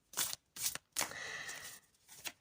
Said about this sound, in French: Ces cartes, je les adore, mais qu'est-ce qu'elles sont grandes. Et mes petites mains, elles ont un peu du mal à les mélanger.